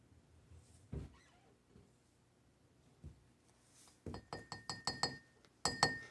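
A spoon clinks against a glass of salt water in a quick series of light, bright taps while stirring, after a few scattered soft knocks; quiet and close, no voices.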